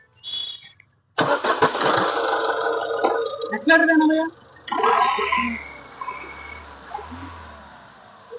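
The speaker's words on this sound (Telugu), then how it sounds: "ఒకసారి స్టార్ట్ చేసి కూడా వినండి. మీరు ఇంజన్ సౌండ్ వినండి" A Ford EcoSport Titanium car engine cranks and catches, then settles into a steady idle with a few revving surges, heard up close.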